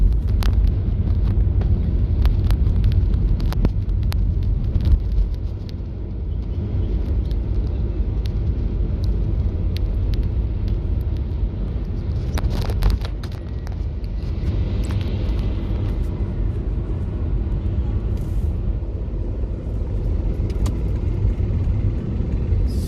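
A car drives through busy city traffic in Dar es Salaam, a steady close engine and road rumble with wind buffeting the microphone, running continuously with no speech.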